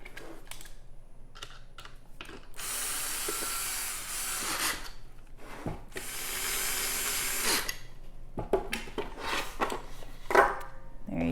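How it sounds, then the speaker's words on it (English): Bolts are fitted and tightened during a 2.0 upgrade installation, with scattered close clicks, rubbing and bursts of ratcheting or driver noise in uneven spurts separated by brief pauses. "And then you can just put these bolts in, tighten down."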